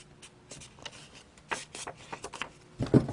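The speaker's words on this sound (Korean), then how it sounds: "꼬다리 종이를 이렇게 대각선으로 접습니다." A square of paper is folded diagonally while a paper robot is built, giving soft close rustles and crisp creasing scrapes in short bursts, ending with a louder crinkling handling of the sheet.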